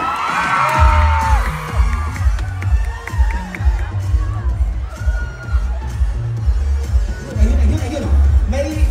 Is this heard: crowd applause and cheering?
yes